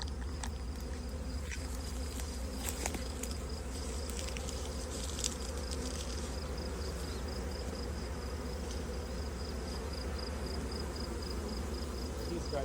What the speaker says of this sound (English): we've got a lot of bees in the hive